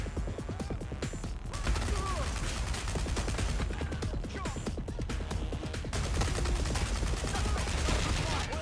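Sustained, rapid gunfire rattles in dense volleys through Watch Dogs: Legion, shots overlapping almost continuously for several seconds while voices shout underneath.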